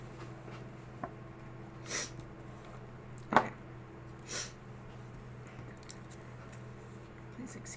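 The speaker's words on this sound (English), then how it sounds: "Excuse my sniffles." Someone at a crafting table peeling and gluing paper sniffles a few times, with soft separate nasal sniffs spaced seconds apart over a quiet room hum and faint handling sounds.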